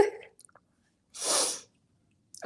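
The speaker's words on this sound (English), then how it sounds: "I guess my sneeze is shy." A single short sneeze bursts out alone in a quiet room, preceded by a faint breath and sniff.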